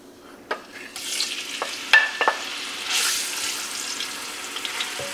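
Pork hits a hot pan on a stovetop and breaks into a steady, close sizzle, with a few sharp clatters and stirring scrapes along the way.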